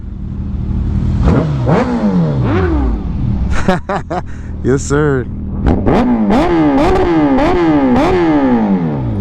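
A Suzuki Hayabusa's inline-four engine revs repeatedly, with sharp rising and falling throttle blips that climb to a high wail, loud and close. Someone briefly speaks over it.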